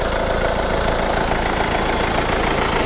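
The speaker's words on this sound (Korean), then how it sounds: "엔진 소리 일정합니다" A Mercedes-Benz E220 CDI diesel engine idles steadily up close in the engine bay, a constant low rumble and rattle with no change in pitch throughout.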